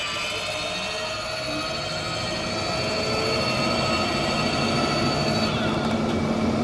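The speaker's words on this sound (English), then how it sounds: "you're going to hear the vent come up" A Fan-Tastic 12 volt RV roof vent motors open and its fan spins up into a steady, close whooshing whir with a broad airy rush and faint tonal hum that grows slightly louder.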